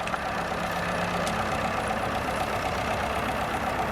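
A tug tows an English Electric Canberra jet onto the runway centre line, its engine idling in a steady mid-pitched drone with faint knocking, steady in level and heard at a moderate distance without talk.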